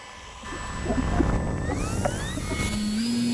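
Electric motor of a Volantex ASW 28 RC glider running at about 80% throttle, a steady close buzzing whine that rises and shifts in pitch as it spools up, with no talking.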